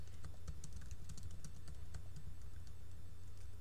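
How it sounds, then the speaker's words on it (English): Quick, light keystrokes on a computer keyboard click out an irregular run of taps, faint and close, with no talk over them. "I can type whatever I want, and I can do it directly from my keyboard"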